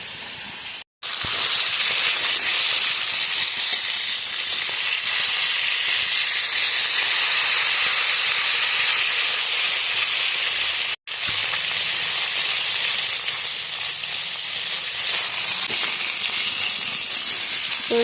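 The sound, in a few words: fish heads frying in oil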